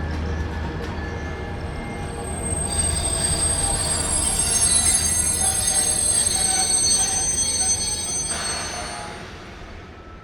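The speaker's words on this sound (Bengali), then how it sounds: "আহিরিটোলাগামী ট্রেন প্ল্যাটফর্মে এসে দাঁড়ালো" A local train bound for Ahiritola pulls into a station platform, its wheels squealing loudly over a steady rumble of rail noise and swelling midway before easing off, with no voices.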